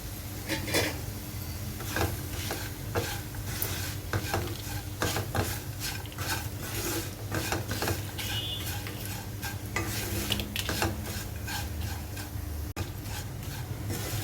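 Fried potato pieces with urad dal spice powder are stirred in a pan, steady sizzling under repeated scraping and clinking of a spoon against the metal, close and continuous.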